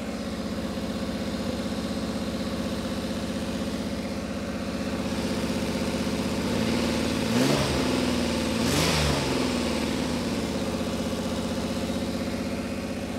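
A 1985 Pontiac Fiero GT engine idles steadily with a fairly high idle, then gets a couple of brief revs near the middle before settling back to a steady idle, up close with no talk.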